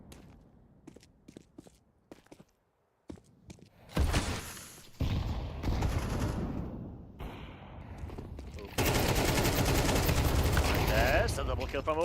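Rapid gunfire from a competitive esports video game match, starting as sparse sharp shots and building into dense, loud sustained bursts, with a caster's voice talking over the action.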